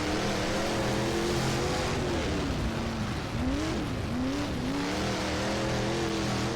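Dirt modified race car in rFactor 2 running continuously with a loud, rough engine roar, its pitch wavering and dipping as the throttle lifts and rises again, with no speech.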